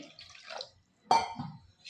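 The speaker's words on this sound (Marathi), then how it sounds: "या ठिकाणी मी वाटी घेतली त्या वाटीत आपल्याला अर्धी वाटी पाणी घ्यायचं आहे" Half a bowl of water is poured into a small bowl in a home kitchen, two short close splashy pours separated by a brief pause.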